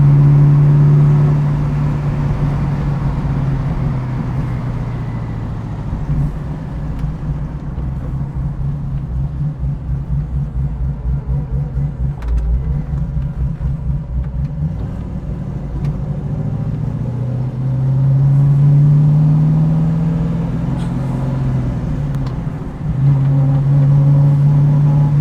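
A 1967 Pontiac Firebird on its first drive, its engine a steady low rumble inside the cabin that swells as it accelerates, with a few brief rises and dips and no talking.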